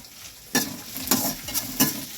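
Garlic sautéing in a pan for garlic pickle gives a steady, close sizzle broken by four rhythmic scraping stirs of a spoon across the pan, with no talking.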